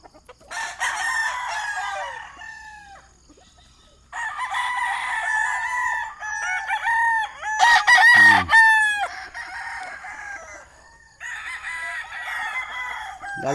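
Several roosters crow on a farm of national breeding stock, long overlapping cock-a-doodle-doo calls in bursts with brief pauses between, loud and close, with clucking around them and no talk.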